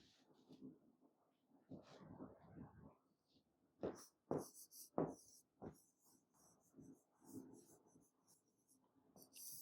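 Chalk or a marker scratches on a board in short bursts and strokes with irregular pauses. The sound is faint and close, and someone speaks quietly between the writing sounds.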